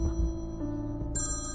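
A phone ringing indoors in a dubbed Turkish drama. It is a steady electronic ringtone with sustained tonal notes, and a brighter, higher melody cuts in near the end, loud and alone with no talk.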